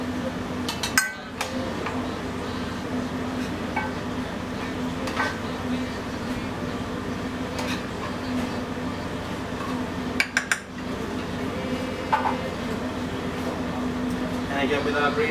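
Metal serving spoon and plates clinking in a pub kitchen as food is plated with toasted pine nuts, a few sharp clinks over a steady air-conditioning hum.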